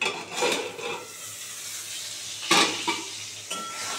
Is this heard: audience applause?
no